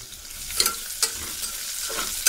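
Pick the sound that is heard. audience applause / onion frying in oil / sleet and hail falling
onion frying in oil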